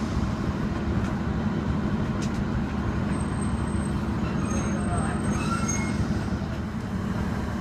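Train pulling away from Metheringham station, heard from on board: a steady low rumble and rolling wheel noise that holds for several seconds, with faint higher squeals and hiss above it.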